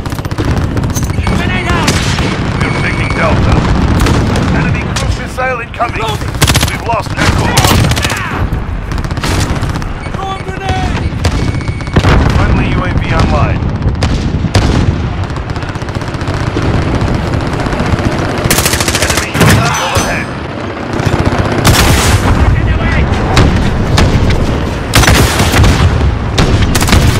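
Call of Duty Modern Warfare combat plays with sustained machine-gun bursts, booming explosions and a heavy cruise missile strike, loud and continuous for nearly half a minute. Shouted voices come through the battle.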